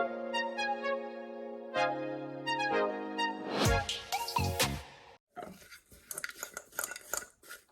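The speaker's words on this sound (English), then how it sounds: "now basically I'm just going to go ahead and mix the two, or combine the two together" Almond flour and butter are mixed in a cup, beginning with ringing clinks of a utensil against the cup, then a run of quick scraping and tapping strokes as they are combined, close and moderately loud.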